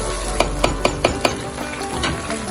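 Ginger garlic paste cooking in a pan for green chicken karahi: a steady, fairly loud sizzle, with a quick run of five spatula taps early on before the frying carries on alone.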